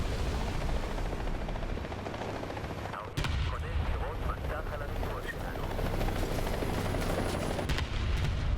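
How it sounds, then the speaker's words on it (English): Helicopter rotor chop in the War Thunder tank battle game, a steady low throb running through the clip beneath bursts of distant gunfire and battle noise, with a commentator talking over it. "There's also a helicopter around"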